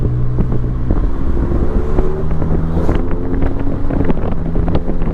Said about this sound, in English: Oh yeah, she's got some rumble to her now.